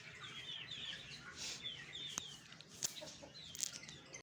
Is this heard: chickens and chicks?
yes